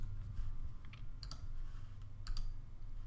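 Computer keyboard typing while entering ActionScript code in Adobe Flash, a few light scattered clicks and keystrokes close by over a low steady hum, with no talking.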